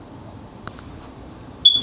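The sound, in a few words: fire alarm beeping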